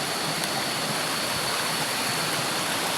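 A mountain creek swollen after heavy rain rushes loudly and steadily, a dense, close roar of water that never lets up.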